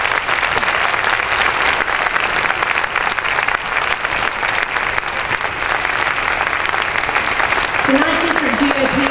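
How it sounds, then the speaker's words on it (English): An audience at a Georgia GOP governor candidate forum gives a loud, sustained round of applause for the candidates and moderator, dense and steady throughout, with a voice starting to speak near the end. "let's give our candidates and our wonderful moderator a round of applause."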